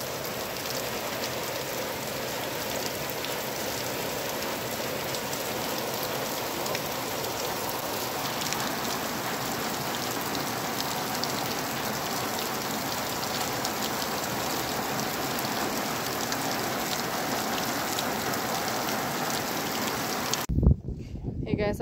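Heavy rain pours steadily in a dense, continuous roar, loud and close throughout, ending with a brief clatter near the finish.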